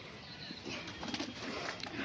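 Faint, distant rustling and fluttering of pet pigeons bathing in water, with soft splashes and a few low coos over steady background noise, and no talking.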